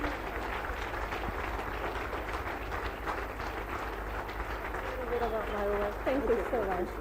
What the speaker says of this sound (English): Let's arise and give that the biggest round of applause to our speakers.